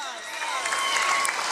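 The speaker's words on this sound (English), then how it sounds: "Please give them a big round of applause." Audience at the Riverside Academy 2022 graduation applauding the graduating class, a steady dense wash of clapping and light cheering throughout.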